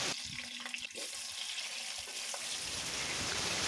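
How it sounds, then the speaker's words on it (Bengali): Cut potatoes fry in hot mustard oil in a wok, giving a steady, dense hiss of sizzling that runs throughout with a few faint clinks near the start. "তেলটা গরম হয়ে গেলে কেটে রাখা আলুগুলো কড়াইতে দিয়ে দিলাম।"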